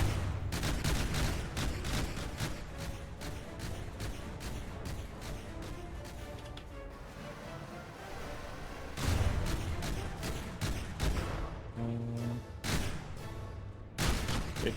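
Rapid bursts of gunfire in a video game, dense strings of sharp shots broken by a short lull in the middle, then more volleys, loud and close without speech.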